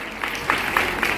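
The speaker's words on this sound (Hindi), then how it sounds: "जरा मजा आ रहा हो तो एक बार ताली बजाओ" An audience at a large open-air Hindi poetry gathering claps briefly, a scattered burst of hand claps close together and fairly loud.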